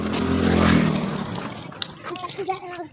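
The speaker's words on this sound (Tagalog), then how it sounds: "nakakabilis sa takbo ng motor" A motorcycle speeding along a road past roadside stalls, its engine noise loud and steady at first, then fading as voices talk over the traffic.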